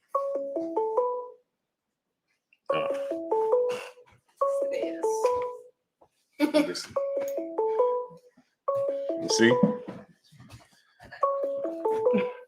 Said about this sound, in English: You hear the phone?